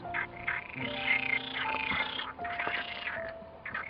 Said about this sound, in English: As you can hear, I think the happiest things at the moment are the frogs.